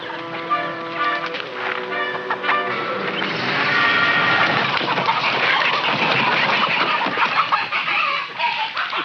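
Chickens cluck and squawk in a dense, continuous clamor close by, with overlapping calls rising and falling throughout and no voices over them.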